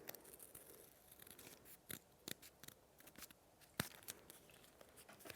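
Scissors cut out pinned fabric pieces in a quiet room, giving faint, sharp snips at irregular intervals over soft rustling.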